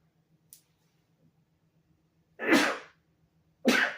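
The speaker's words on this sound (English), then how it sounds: "I'm gonna sneeze." Two loud, close sneezes about a second apart, each a sharp burst, after a quiet stretch with a steady low hum and a faint click.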